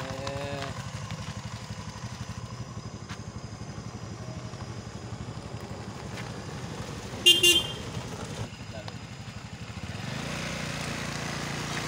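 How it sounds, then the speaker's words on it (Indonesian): A Toyota Kijang car passes on a village road, its steady engine rumble running throughout, with a brief horn toot near the middle and the motor noise swelling toward the end. "Ini ada kendaraan sebuah mobil apa ini? Kijang arah dari Karangdapo ini bosku."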